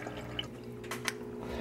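Water trickling from a filter into a fish tank, a soft steady splashing with a few brief drip-like spatters, quiet and close, with no talk.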